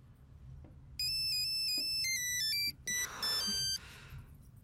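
A mobile phone ringtone goes off during an important meeting in a Telugu thriller film scene: a bright electronic melody of quick repeated beeping notes, played fairly loud and close, ending after a few bars.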